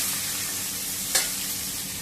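Chopped onion fries with curry leaves and garlic in a pan, giving a steady close sizzle throughout with one brief louder hiss as it is stirred.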